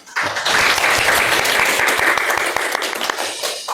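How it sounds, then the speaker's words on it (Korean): Attendees at a Korean political forum on prosecution and criminal procedure reform break into loud, steady applause to welcome the moderator, dense clapping swelling quickly and holding before tapering slightly. "소개될 때 참석하신 분들의 박수로 환영해 주셨으면 좋겠습니다"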